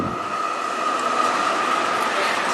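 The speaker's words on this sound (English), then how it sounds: "There's a tram that you see" A tram passing by on a Fitzroy street in Melbourne, a steady close rumble of wheels on rails with a sustained metallic whine running through it.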